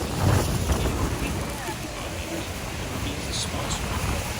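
Strong wind roars steadily across the microphone on a boat nearing the falls at Niagara Falls, a dense wet rush with water and spray noise filling the whole stretch.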